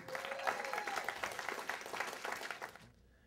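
Audience applause welcoming Teddy Riley, the R&B producer, on stage: steady, dense clapping from a crowd filling the room, moderately distant, before cutting off abruptly near the end.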